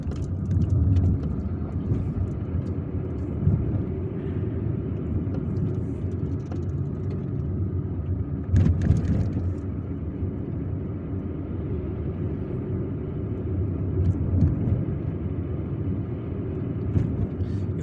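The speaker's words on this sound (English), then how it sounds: "we're driving straight, still driving down Bashir Ibrahimi Street" Steady low engine rumble from inside a car driving through residential city streets in Algiers, road noise continuous throughout with a faint voice underneath and a brief bump partway.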